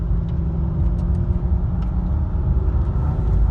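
Car engine from a 2003 model revving with a deep growl, a loud, steady low rumble close by, holding throughout with slight fluctuations and no talking.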